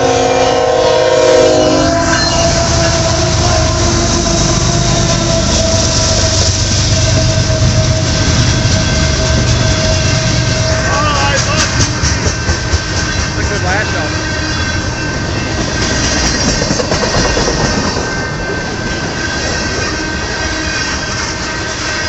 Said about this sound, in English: looks like we have an eastbound train coming into town here